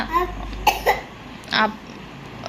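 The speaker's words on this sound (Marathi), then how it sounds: "तो खोकला" One or two short coughs sound close by, followed by a throat-clearing noise. There are faint voices around them.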